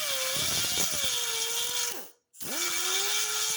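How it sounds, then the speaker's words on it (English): A high-speed carbide bit grinds away a rivet on a 1964 Impala SS front bumper bracket, a steady loud whining buzz that cuts out briefly and then spins back up, close and with no speech. "we're going to use a carbide bit and carefully shave away, not damaging the bracket itself"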